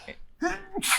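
One sharp human sneeze bursts out close and clear, with a short intake beforehand and a bright explosive release at the end.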